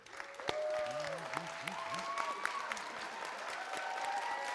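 Audience at an animation school showcase breaks into sustained applause, a dense wash of clapping that builds and holds, with scattered whoops and cheers rising over it.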